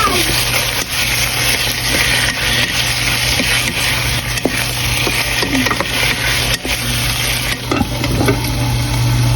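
Chicken adobo with eggs is stirred in a frying pan, giving a constant loud sizzle and crackle of frying with scraping and stirring noises layered over it from start to finish.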